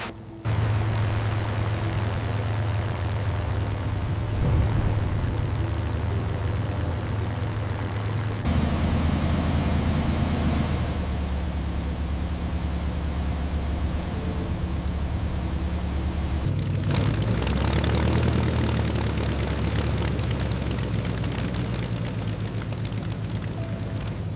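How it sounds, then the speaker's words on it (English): A P-51 Mustang's Merlin engine holds approach power in a banking flight with aerodynamic sounds, a loud steady droning rumble whose tone shifts twice, continuous and close with no speech. "Bank angle with aerodynamic sounds, Merlin at approach power steady, speed being maintained"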